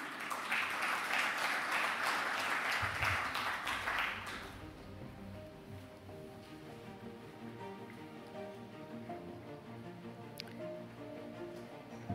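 Delegates at the 48th ADFIAP annual meeting in Oman break into a dense burst of applause that lasts about four seconds, then stops abruptly, leaving quieter background music and room tone.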